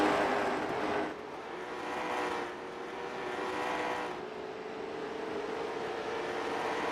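Race cars roar past on the North Wilkesboro oval during a CARS Tour All-Star Week race, a continuous distant engine drone swelling and fading as the pack sweeps by.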